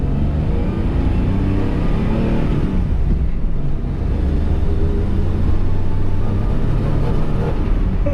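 A broken-down car, just refuelled, rumbles with its engine running steadily and swelling as it pulls away, a continuous close drone throughout.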